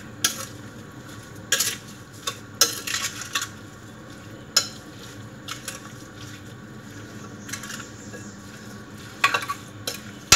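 A utensil stirs and scrapes through carrot cake batter in a bowl, with soft clicks and taps against the sides, close and fairly quiet over a steady background hiss.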